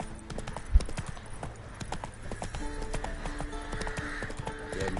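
A horse's hooves clop at a gallop in The Witcher 3, a steady quick rhythm over game ambience and music, with a faint voice near the end.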